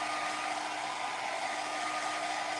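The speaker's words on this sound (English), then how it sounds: "We're just having to use the hair dryer for expedience." A hair dryer blows a steady, even whoosh while it dries a freshly applied aged oak patina finish on wooden furniture, close and constant throughout.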